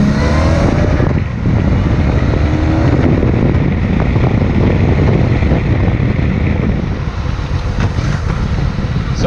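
A 1997 Honda Magna 750 V4 motorcycle rides at speed, its engine a loud, steady drone that is heavily buffeted by wind roar throughout.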